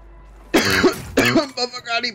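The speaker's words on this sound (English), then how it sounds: "he just coughed right in my fucking ear" A teammate coughs loudly right into a microphone during a Call of Duty match, two harsh close bursts followed by shorter throat-clearing sounds.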